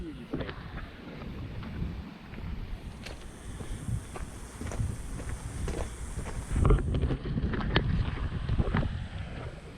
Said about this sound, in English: Probably won't be able to hear me with this light wind.